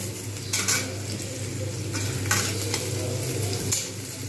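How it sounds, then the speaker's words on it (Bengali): Onions frying in plenty of oil in a pan for a Bengali fish roe fritter curry, a steady loud close sizzle with intermittent scraping stirs, no talk. "এইবার আমি পেঁয়াজটাকে কিন্তু খুব সুন্দরভাবে লাল করে ভেজে নেব"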